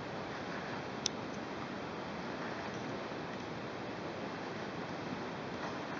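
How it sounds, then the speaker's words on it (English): Water pours down a canyon like a waterfall, a steady, uniform rushing hiss at low level with one faint tick early on, continuous and unchanging throughout. "Got all the water, like a waterfall coming down."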